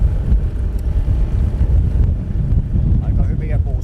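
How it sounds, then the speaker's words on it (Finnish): Gusty wind buffets the microphone aboard a sailing boat on a Finnish lake, a constant low roaring rumble with a voice speaking briefly over it near the end. "Aika hyviä puuskia sanoisin."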